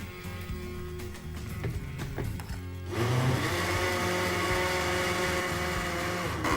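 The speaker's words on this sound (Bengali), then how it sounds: "আমি ব্লেন্ডারটা অন করছি" A kitchen blender switches on partway through while bread pudding is being made, its loud steady motor whir starting abruptly and running on alone to the end after quieter kitchen clatter.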